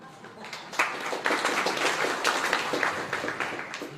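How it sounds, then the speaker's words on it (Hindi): A seated audience at a Jain sermon by Acharya Vidyasagar Ji Maharaj at Antariksh Shirpur Parasnath breaks into sustained applause, a dense steady patter of many hands clapping for several seconds with a slight swell near the start. "आप लोगों ने ताली बजा दी"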